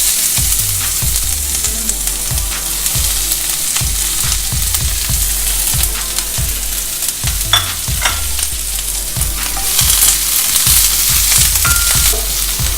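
Chopped onion, green chilli and curry leaves sauté in hot oil for Kerala-style scrambled egg, a loud, continuous sizzle broken by rhythmic spatula scrapes against the pan, close and without talking.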